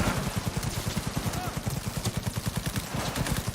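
Rapid automatic gunfire in a shooter video game, a steady rattling burst of evenly spaced shots running for several seconds, loud and close.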